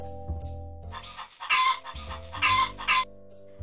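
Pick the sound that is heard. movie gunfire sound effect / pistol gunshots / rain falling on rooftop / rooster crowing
rooster crowing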